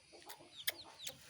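A mother hen calls from above to her newly hatched chicks, giving soft, quiet clucks at a distance, with several brief sharper notes mixed in among low background noise.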